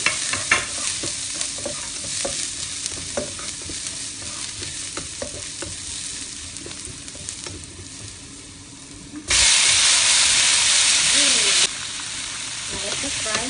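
Salmon belly frying with tomatoes in a pan, a steady loud sizzle with stirring scrapes, then a sudden burst of harsher hissing spray for a couple of seconds before settling back.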